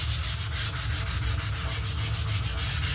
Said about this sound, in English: focused on the outside of the patch first for sanding it